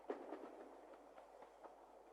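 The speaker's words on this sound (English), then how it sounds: "Miffy, Melanie and Grunty rode a train through different countries in Europe" A train rolls along in an animated children's show, a faint, steady rumble with soft rhythmic clacks of wheels on the rails.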